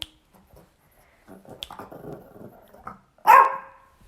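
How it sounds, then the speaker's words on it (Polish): A dog gives a single sharp bark on command near the end, after a stretch of quiet shuffling and faint movement sounds. "umie szczekać na zawołanie"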